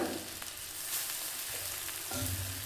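Soaked vermicelli going into vegetables cooking in a pan for shavige bhath, a close, continuous frying hiss with a couple of soft stirring scrapes near the end.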